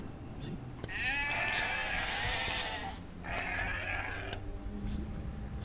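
Sheep in the Age of Empires video game give two long, loud, wavering bleats in quick succession, close and clear over a low game background.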